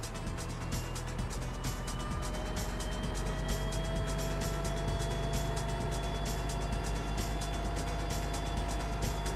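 A fire engine pump is throttled up to pressure during a dual reverse lay to a large volume line, producing a constant low engine drone and pump hum with a steady mechanical rattle and no speech.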